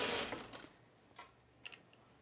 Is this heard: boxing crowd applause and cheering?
no